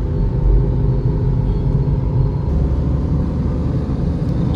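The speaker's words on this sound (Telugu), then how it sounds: "మళ్ళీ ట్రాఫిక్ స్టార్ట్." Constant low road rumble from inside a car moving through heavy office-commute traffic on a city road, a steady loud engine-and-tyre drone with no breaks or voices.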